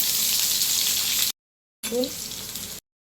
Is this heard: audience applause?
no